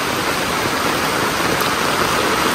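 Heavy typhoon rain pours steadily alongside a loud, rushing flow of floodwater, a constant dense hiss with no pauses.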